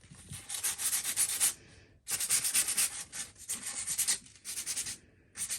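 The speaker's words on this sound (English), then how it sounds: "So I'm going with the 220 grit sandpaper because I can find it." Hand sanding with 220 grit sandpaper in a workshop: bursts of brisk back-and-forth rubbing strokes, close and fairly loud, separated by short pauses, no speech.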